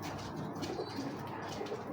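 High-flyer pigeons coo softly and steadily nearby over a dense, constant wash of background noise.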